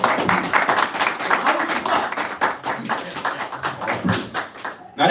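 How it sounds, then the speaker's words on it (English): Congregation clapping along steadily at a Sabbath church service, a dense run of fairly close, rhythmic hand claps with faint voices underneath, ending abruptly. "Clap it up to the Lord."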